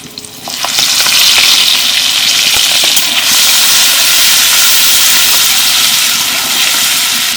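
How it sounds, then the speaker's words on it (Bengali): Shrimp rubbed with salt and turmeric crackle loudly in plenty of hot mustard oil with black cumin and green and red chilies, a close, steady, dense sizzle with a few sharp spatter pops and occasional stirring. "এবার দিয়ে দিচ্ছি লবণ হলুদ মাখিয়ে রাখা চিংড়ি মাছগুলো"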